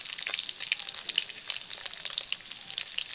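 Whole spices crackling and sizzling in hot oil while tempering for a katla fish head curry, a steady faint sizzle with scattered sharp pops, heard alone without talk.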